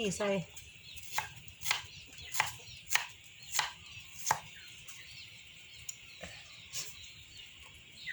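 Spring onions and coriander are chopped with a knife on a board, a run of sharp, evenly spaced chops up close, with a few softer taps after a pause.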